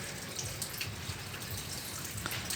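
Water running and trickling steadily from an eel pond as it is drained, a continuous splashing flow with light drips, close and alone without talk.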